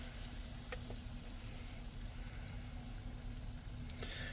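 Diced onions left in a pan sizzle quietly and steadily, with a few faint clicks and no talk.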